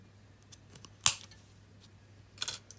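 Cutting curled wire ends short on handmade earrings, one crisp snip followed by a second quieter snip about a second and a half later, with faint handling clicks around them.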